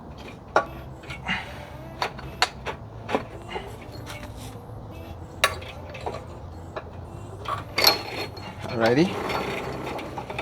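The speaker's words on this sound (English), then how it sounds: "I'm gonna just pull out a good amount just so I could reel it back in" A steel winch cable clicks and rattles as it is pulled out in freespool through fairlead rollers on a Jeep JKU, giving irregular ratcheting and metallic clanks, fairly close, with a brief spoken word.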